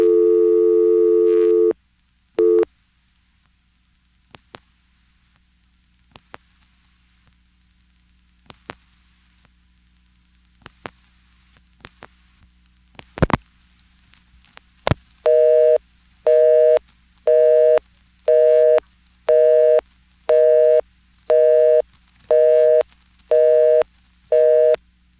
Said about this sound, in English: so just a regular old busy signal